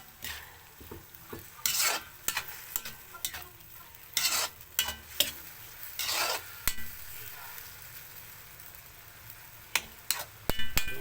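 A spoon scrapes and stirs a home-cooked vegetable dish in a pot with a little broth. Irregular clattering strokes come in short bursts over a soft simmering sizzle, close and fairly quiet.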